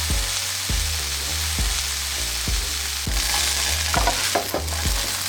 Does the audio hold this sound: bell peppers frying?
yes